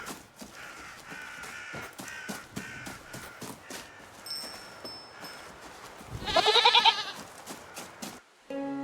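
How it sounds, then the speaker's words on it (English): A goat in the video game REKA bleats loudly over a background of soft ambient ticks and crow-like calls, with faint tinkling that may be its bell, near the end of a quiet outdoor scene. "You can hear its bell jingling as well to help you find it further."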